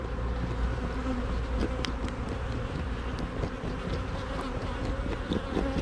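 Honey bees hum in a dense, continuous buzz during an inspection of a honey-producing hive, loud and close, with occasional individual bees flying past.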